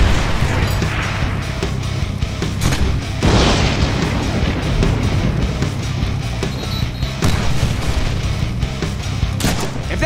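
Rocket blasts and gunfire from a Deadpool video game, a dense, loud barrage of booms and sharp cracks that carries on without a break.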